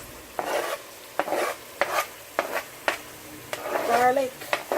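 Sweet pepper and onions with chicken being stirred in a pan, several scraping stir strokes repeating about once a second over a soft sizzle, with a voice briefly heard.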